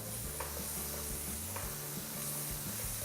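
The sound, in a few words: chili bean frying in pan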